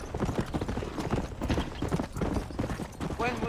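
Horse hooves clip-clop in a rapid, steady rhythm in the video game Red Dead Redemption, close and clear throughout, with a brief horse whinny near the end.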